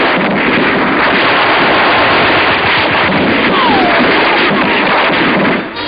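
Gunfire in 1944 street fighting in Cherbourg, a dense, loud wash of crackling shots and rumbling reports on an old, band-limited recording, continuous with no voices.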